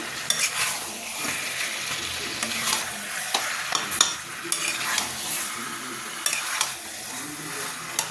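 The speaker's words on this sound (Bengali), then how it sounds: "আমি এবার আলুগুলো দিয়ে এবার একটু নেড়ে দেবো" Potatoes stirred into a chicken curry spice paste frying in a pan and starting to catch on the bottom. A spatula scrapes and clatters in irregular strokes over a constant crackling sizzle, close and fairly loud.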